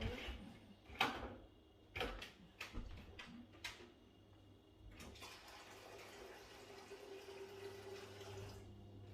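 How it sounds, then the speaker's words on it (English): A few clunks and clatters, then a steady stream of hot water pouring onto noodles in a container for several seconds, moderately close. "What I normally do is just pour the water on it"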